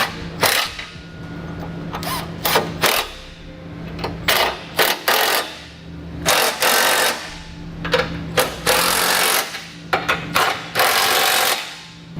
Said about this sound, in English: Then we can take a 3/4 inch socket and begin tightening all our hardware.